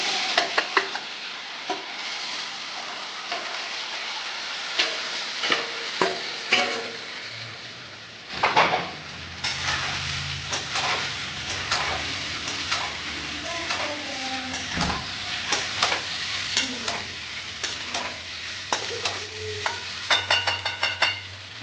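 Muthiya dumplings are eased one by one into a pan with a utensil and stirred, giving a run of close scraping, clattering strokes over a soft, steady sizzle, with brief louder knocks scattered throughout.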